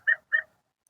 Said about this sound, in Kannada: ನೋಡಿ, ಅಲ್ಲಿ ನಾಯಿನೂ ಇದೆ.